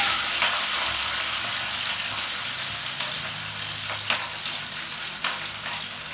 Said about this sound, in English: Now I fry the onion